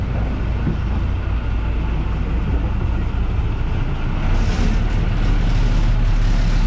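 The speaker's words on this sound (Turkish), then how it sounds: "Otobüs geldi bir." A bus pulls up and idles on a street in Thailand, a steady low engine rumble filling the scene with traffic noise that swells slightly toward the end, no talk.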